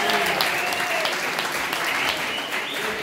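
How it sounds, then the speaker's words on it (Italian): An audience at a junior boxing match claps for the referees, dense steady applause filling the hall, with faint voices mixed in beneath. "Facciamo un applauso anche per gli arbitri per cortesia."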